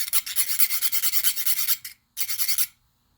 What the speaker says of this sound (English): So, you want to keep filing these down.